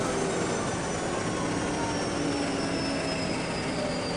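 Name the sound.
gas turbine locomotive whining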